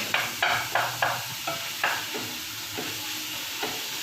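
Beef frying in a pan with garlic and onion, with loud sizzling and repeated scraping stirs every half second or so, each stroke followed by a hiss of steam, close and clear with no talking.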